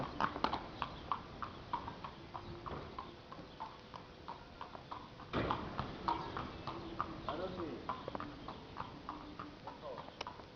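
A horse's hooves clip-clop in an irregular walking rhythm during a riding lesson, close and distinct, while people talk and give instructions over the steps.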